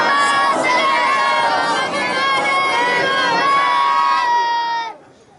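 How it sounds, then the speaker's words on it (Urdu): A large congregation at an imambargah in Faisalabad recites salawat aloud together in a loud, sustained massed chant of many voices, which breaks off abruptly near the end. "ایک صلوات پڑھ دیجیے بلند آواز سے"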